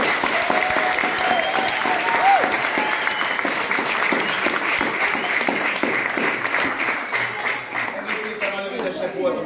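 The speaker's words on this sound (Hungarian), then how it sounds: "Úgyhogy még egyszer egy hatalmas tapsot szeretnék nekik." A crowd at the closing evening of a folk dance camp gives a big, loud round of applause, dense clapping sustained throughout with some voices mixed in.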